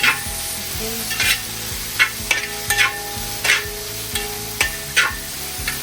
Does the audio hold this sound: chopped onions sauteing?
yes